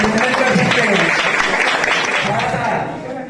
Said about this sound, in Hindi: आप लोग जोरदार तालियों से अभिनंदन कर सकते हैं।